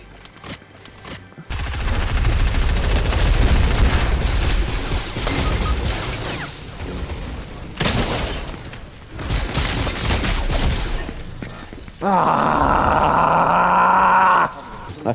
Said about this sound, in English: Someone's blasting me!